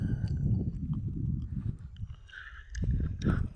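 A horse walking nearby, its hooves giving a steady, close clip-clop with low rumbling background noise, while a faint animal call rises briefly near the end.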